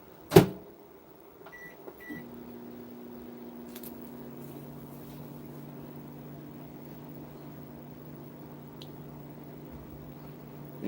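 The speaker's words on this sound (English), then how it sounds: "we're just gonna put it back into the microwave" A microwave oven starts up after a door thump and a couple of beeps, then runs with a steady low electrical hum that holds evenly throughout, quiet and close, with no one speaking.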